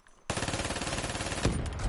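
Rapid video-game gunfire crackles in a dense, sustained burst during skeet shooting, loud and continuous for most of the moment with a sharper hit near the end, no talk over it.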